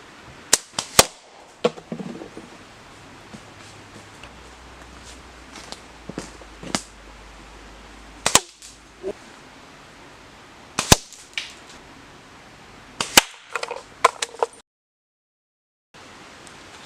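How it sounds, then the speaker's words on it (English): Sharp, isolated snaps of a slingshot being shot outdoors in a bushcraft setting, a handful of loud cracks spaced irregularly across the stretch with quiet gaps between, no talking. "Should we insert some dramatic shooting footage?"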